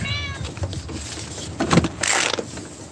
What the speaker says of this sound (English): Let me let this cat in real quick.